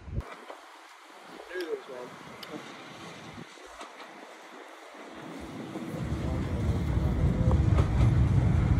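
A tram rumbles in gradually, its low mechanical noise swelling steadily louder toward the end as it approaches the stop, with brief voices early on.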